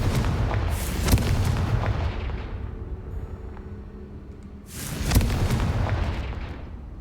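Fiery Confringo blasting spells explode in the video game Hogwarts Legacy, two loud booming blasts about four seconds apart, each with a rumbling decay and crackle, and no talking.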